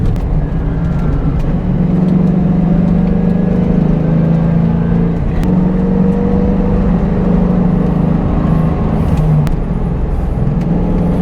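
A modded 2001 Ford Mustang Bullitt driven hard through the corners of the Pig Trail, its engine holding a loud, steady low drone close-up with slight shifts in pitch and no one talking.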